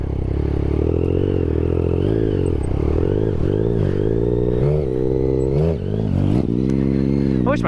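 A Daytona motorcycle rumbles loudly and close while being ridden, its engine note rising and falling through repeated throttle changes, with some clatter and scraping mixed in.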